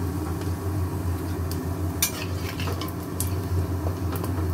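Cumin and garam masala sizzle steadily in hot oil after paneer has been fried, with a continuous close frying hiss, light stirring and a few sharp clinks of a spoon against the pan.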